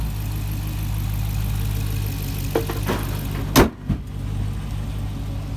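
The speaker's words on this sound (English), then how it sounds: "I'm gonna go take it for a spin now." A Chrysler 300 with a 392 Scat Pack engine idles in a low, steady rumble, interrupted midway by a couple of sharp thuds before the drone carries on, without talking.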